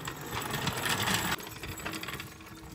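Lug nuts being loosened on the wheels of a 2021 Can-Am Renegade 1000 XXC ATV, a dense close metallic ratcheting buzz that runs steadily, then drops in level halfway and continues more softly.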